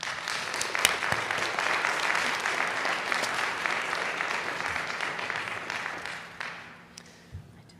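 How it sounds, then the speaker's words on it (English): An audience applauds at an MSAD #51 school board meeting, with sustained, dense clapping from many people that thins out and fades near the end. "if we could maybe just hold our clapping"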